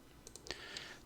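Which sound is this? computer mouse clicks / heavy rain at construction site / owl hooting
computer mouse clicks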